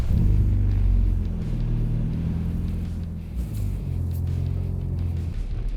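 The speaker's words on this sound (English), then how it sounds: "That's a pretty thunderous roar of an exhaust, like coming out of that tiny engine." A loud, deep exhaust rumble from a Nissan 240SX engine starting up and running, steady and close, with a brief dip midway before the throaty roar resumes.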